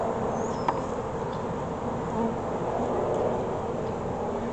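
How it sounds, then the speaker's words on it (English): A package of Sasquatch honey bees, yellowish with dark abdomens, being installed into a hive; a steady, dense buzzing swarm fills the whole stretch at a constant level, with no talking over it. "So we got these Sasquatch bees"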